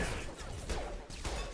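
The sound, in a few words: gunfire in the video game Mass Effect 2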